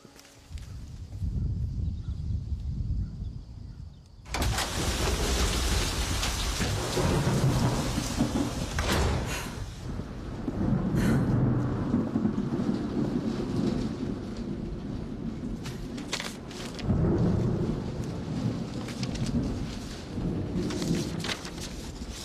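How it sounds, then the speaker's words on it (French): Heavy rain pours down in a thunderstorm, beginning abruptly after a few quiet seconds. It becomes a loud, steady wash of downpour, with deep rumbles of thunder swelling beneath it. No one speaks. "Il va pleuvoir. La pluie ici est plutôt rude, vous devriez attendre un peu."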